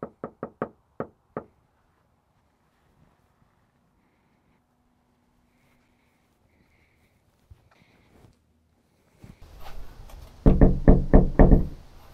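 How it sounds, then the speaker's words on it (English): Knocking on a neighbor's front door: a quick series of five sharp raps, then quiet, then another louder run of knocks with some scuffling, close and with no talk. "I'm gonna knock on the neighbor's door and see if they answer"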